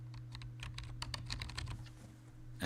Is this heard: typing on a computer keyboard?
yes